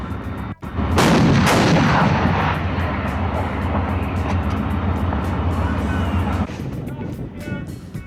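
Tank main guns fire during the CANAM tank gunnery challenge, a massive close blast followed by a long rolling roar and rumble that fades after several seconds, with a second sharp report near the start.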